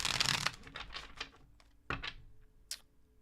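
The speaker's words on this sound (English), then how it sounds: "Let me just shuffle these cards really quick for you guys." Tarot cards being shuffled by hand, quick riffling bursts and soft card slaps in short clusters, close and fairly quiet, with no talking.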